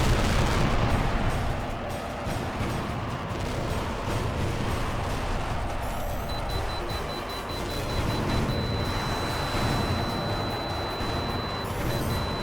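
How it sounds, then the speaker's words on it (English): Missile launches and explosions from the jet combat video game Tom Clancy's HAWX form a dense, continuous roar of booms and rumbling blasts, loud throughout with a steady high electronic tone partway through. "Fox 2 confirmed. Weapon deployed. Good kill, Shane."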